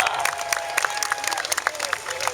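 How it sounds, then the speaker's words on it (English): A crowd claps and cheers for the winner of a potbelly pig race at the Florida State Fair, scattered, lively applause with whoops and shouts close by for a couple of seconds. "Let's give our Potbelly Pig winner a nice round of applause."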